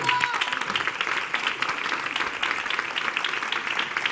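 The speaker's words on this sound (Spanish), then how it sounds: "Tengo a Salomé Limón, un aplauso para ella." Applause for a guest at a meet-and-greet event in A Coruña, Spain: a steady, dense patter of clapping fills the whole stretch at moderate volume, with a brief tone near the start.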